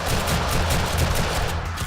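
Dense, continuous gunfire from shotguns in the zombie survival game 7 Days to Die during a modded horde night, loud and sustained with rapid overlapping blasts and no pauses.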